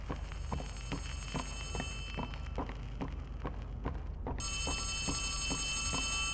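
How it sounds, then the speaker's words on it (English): An old-style telephone bell rings in a repeating pattern of regular strokes, loud and steady against a constant background hum, with no voices over it. "I hear a phone ringing."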